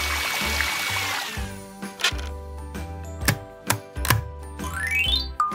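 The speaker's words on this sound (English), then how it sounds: "Step 3. Testing a mixer blade." A LEGO Technic mixer blade spins in a test, clattering plastic parts and motor whir broken by sharp clicks and knocks at irregular intervals, close and fairly quiet.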